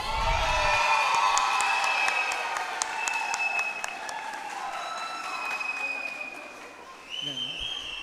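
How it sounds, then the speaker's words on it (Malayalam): An audience at an Onam festival claps loudly for the first-prize-winning team, dense sustained applause with some cheering that dips briefly near the end before picking up again. "നല്ലൊരു കൈയടി കൊടുക്കുക."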